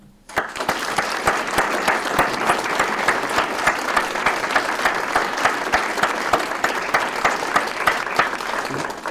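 An audience bursts into sustained applause welcoming the West family at an opening reception for Dirk West, individual claps crisp and close within a thick, continuous roar that starts abruptly and stays strong throughout.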